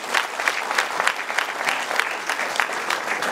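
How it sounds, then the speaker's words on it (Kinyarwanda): A crowd claps in a steady, dense burst of applause that holds at an even level for a few seconds, close and lively, with no clear speech over it. "Abadafite ishyari bagukomera amashyi menshi cyane"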